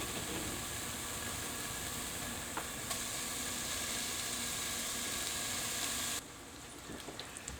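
Bacon sizzling and frying with onions in a cast iron pan, a steady loud hiss that runs unbroken before dropping to quieter crackles near the end, with no talking.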